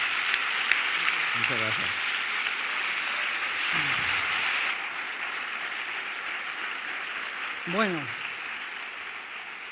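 Audience applause welcoming a speaker at a lecture in Torrelodones, steady clapping that drops off midway while someone speaks briefly over it.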